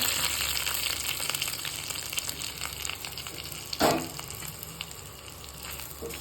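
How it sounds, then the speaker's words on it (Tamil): Curry leaves and chopped vegetables for Nagercoil-style aviyal sizzle and crackle steadily in hot coconut oil, a close, continuous fry with one brief louder burst partway through and no talking. "எண்ணெய் காஞ்சிருச்சு இப்போ கருவேப்பிலை மட்டும் போட்டுக்கிறேன் இப்போ காயில் சேர்த்துக்கிறேன்"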